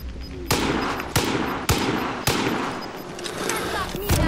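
Gunfire from a weapon in the video game Call of Duty: Modern Warfare, loud close single shots fired in a steady series about every half second, ringing over a continuous background.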